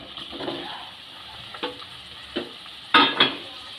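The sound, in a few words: boiled cauliflower being fried and stirred with spices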